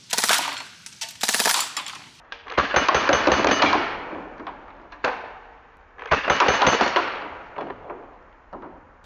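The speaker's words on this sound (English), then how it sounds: "We'll do the BB gun first. This should break them no problem." A full-auto BB gun fires in rapid bursts, loud and close: a couple of short rattling strings, then longer sustained runs of fast repeated cracks separated by brief pauses.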